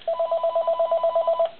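A phone rings in a rapid electronic trill of about a dozen evenly spaced pulses, clear and close, stopping abruptly after a second and a half.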